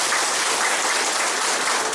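Dense, steady applause from an audience at a formal social and gender audit programme, a continuous wash of many hands clapping at once without pause.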